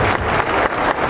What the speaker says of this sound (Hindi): हम चाहेंगे सबके लिए जोरदार तालियां